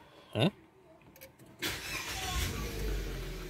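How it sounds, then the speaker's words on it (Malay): A Mitsubishi Xpander engine starts after a quiet cabin moment: a sudden broadband burst of cranking gives way to a steady, fairly loud idle rumble that carries through to the end. "bila kita start kereta,"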